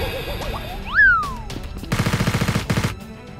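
Rapid bursts of toy gunfire in a staged Nerf gun action fight, a fast rattling string of shots after a sharp rising zip and a few isolated pops, loud and close.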